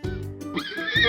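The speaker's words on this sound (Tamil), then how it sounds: "நான் தான் வரிக்குதிரை" A single zebra call, a short loud equine whinny with a rising, wavering squeal, heard close and alone.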